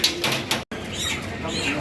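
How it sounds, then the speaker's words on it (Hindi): Pigeons and quails at a busy chicken market give soft coos, with brief bursts of wing flapping amid steady crowd and market noise. "यहाँ पे देखिए कबूतर भी हैं, बटेरे, कबूतर।"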